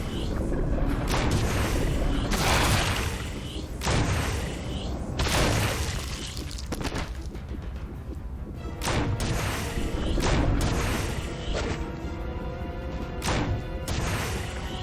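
Gunfire at the Tyrant in the Resident Evil HD video game's lab finale: a series of loud, booming shots in an irregular rhythm, each a sharp crash with a ringing tail, over a steady game backdrop.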